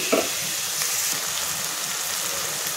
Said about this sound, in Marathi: टोमॅटो आणि कांदा खूप छान पटकन फ्राय होणार आहे